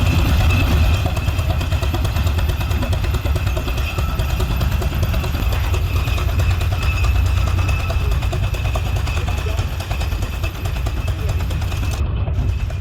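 A Holt 60 tractor engine runs steadily at an outdoor farm equipment show, a loud, continuous rapid chugging with rattling mechanical texture close by, while people talk faintly in the background.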